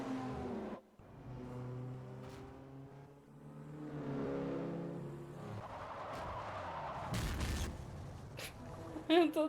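A car engine in Forza Motorsport 4 drones and revs, then a loud crash bursts in near the end, with brief sharp impacts trailing off.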